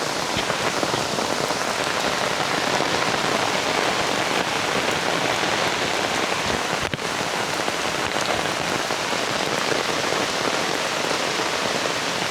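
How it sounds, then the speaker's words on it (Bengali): Torrential rain pours down in a village, a loud, unbroken roar of drops drumming on surfaces, dense and even throughout with no voices over it. "তো দেখুন কি মুষলধারে বৃষ্টি।"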